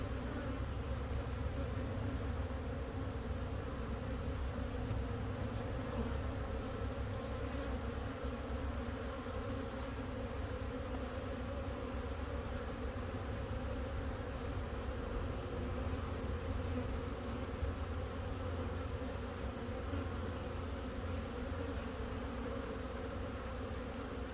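Honeybees buzz in an opened hive during an early-spring inspection, a dense steady drone that holds unbroken throughout.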